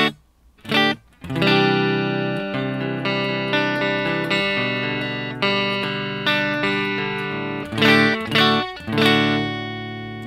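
A Corona Standard ST electric guitar played through distortion, with a few sharp chord stabs followed by sustained, layered chords and more rhythmic hits near the end, loud and close with no talking.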